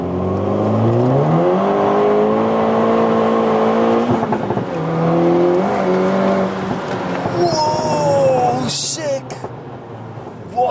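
A VW Polo WRC homologation rally car, weighing 1100 kg, revs its engine loudly and steadily close by. The pitch climbs and falls across several revs, ending with a sharp high rasp.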